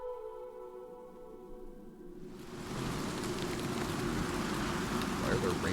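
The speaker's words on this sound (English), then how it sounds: "Why are there rain sounds in the" Rain in Oblivion Remastered, a steady hiss of falling drops that swells in after a quieter tonal stretch and keeps going, dense and continuous.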